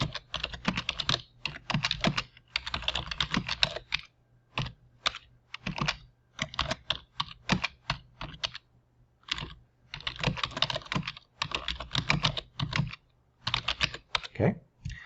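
A computer keyboard is typed on in steady bursts of close, clear clicks, with brief pauses and scattered single keystrokes between them.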